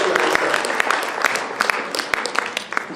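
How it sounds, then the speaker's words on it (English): An audience at a spiritual retreat's afternoon program claps together in a dense, sustained round of applause that carries on for several seconds. "I think we should clap for this beautiful"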